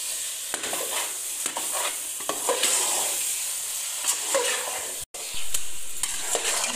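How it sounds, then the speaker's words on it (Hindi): Carrot halwa with khoya being roasted and stirred in a pan, a steady sizzle broken by repeated scraping strokes of a spoon, close and fairly loud, with one brief dropout near the end and no talk. "अब इसको मज़ीद 5 से 10 मिनट और भुनेंगे"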